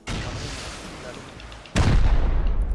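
Heavy gunfire in the survival video game Rust booms out, a steady rumbling stretch followed by a sudden louder, closer blast about two thirds through.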